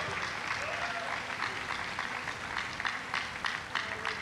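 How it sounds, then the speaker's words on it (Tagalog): A crowd inside Amoranto Stadium claps during a religious preaching gathering, a broad, continuous wash of applause heard from a distance, with brief louder swells near the end. "isang malakas at buhay na palakpak para sa ating pinakamamahal na Panginoon"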